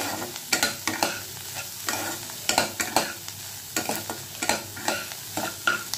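Fish roe fries in a little oil in a pan, a steady sizzle broken by repeated scraping stirs of a spatula at an irregular rhythm, close and clear with no talking.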